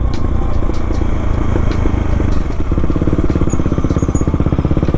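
Yamaha R15 motorcycle engine racing alongside a Bajaj Dominar 400, a loud, steady buzzing drone with rapid rhythmic pulsing close to the microphone.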